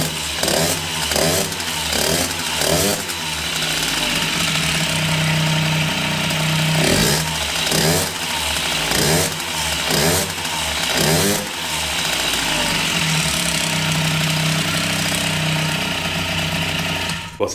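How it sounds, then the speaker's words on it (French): A 70cc MBK 51 moped two-stroke engine is started with several sputtering attempts, catches, and revs in uneven bursts before settling into a loud, rattling idle nearby. "On va démarrer le moteur."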